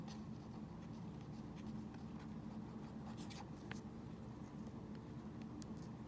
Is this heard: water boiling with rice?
no